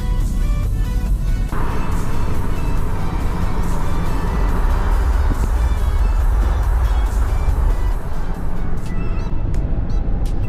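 A car cruising along scenic Highway 395 in California produces a loud, continuous road and engine rumble with steady tire noise and no voices heard.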